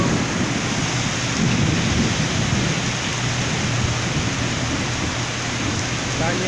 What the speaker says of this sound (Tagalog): Sobrang lakas ng ulan, grabe.